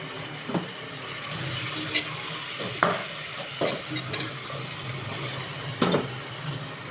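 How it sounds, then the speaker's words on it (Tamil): Onions and tomatoes being sautéed in a pan for a Sunday mutton biryani, with soft sizzling under scattered scraping clicks of a stirring spoon, close and fairly quiet. "வெங்காயம் நல்லா வதங்கினோடனே தக்காளி ஆட் பண்ணிக்கலாம்."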